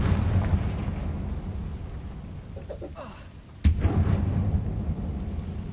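A single sharp, loud fire-spell explosion blasts out in the video game Hogwarts Legacy, bursting over a constant low rumbling background and followed by a brief crackling tail.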